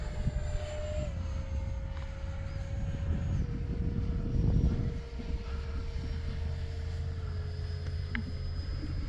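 An X-Fly Alpha electric ducted fan RC jet flies past with a steady, continuous whooshing whine that swells briefly midway and then eases slightly, heard from the ground at moderate distance with no talk.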